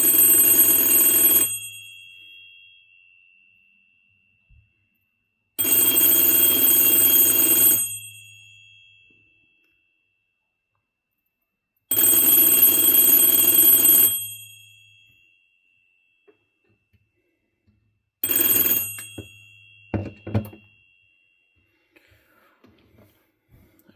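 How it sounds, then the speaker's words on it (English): A Leich Electric Co 901B telephone's ringer gives a tinkly, bright bell ring in three long bursts of about two seconds each with pauses between, then a short final burst followed by faint handling clicks. "This phone has kind of a tinkly kind of ringer"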